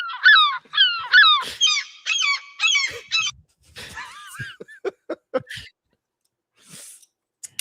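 Honking, squawking bird calls from a game character burst out in quick harsh runs, then scattered short sharp chirps and clicks trail off with gaps of silence toward the end.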